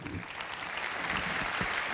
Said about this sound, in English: I'm sure there are people from Wales clapping right there